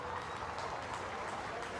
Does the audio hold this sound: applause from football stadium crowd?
yes